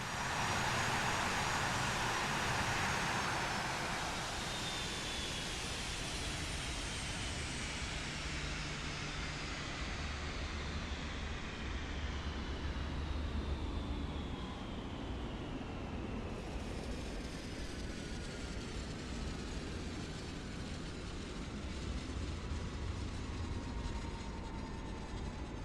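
Twin jet engines of an A-10 Thunderbolt shutting down on a runway in Microsoft Flight Simulator 2024, a loud roar and high whine steadily falling in pitch and spooling down over many seconds, with no talk.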